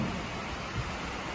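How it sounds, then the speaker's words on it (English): Steady rain driven by southeast winds falls around a newly built cattle barn, a dense, even hiss of drops and wind with no distinct events, fairly faint and continuous. "Pretty good southeast winds, so the rain is coming out of that direction."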